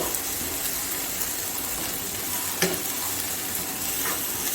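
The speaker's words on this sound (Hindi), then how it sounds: "ये 2 अंडे हैं, इसको फ्राई करना है" Two eggs fry in a shallow layer of oil already used for frying chicken, giving a steady, dense crackling sizzle with a couple of brief sharper pops and no talking.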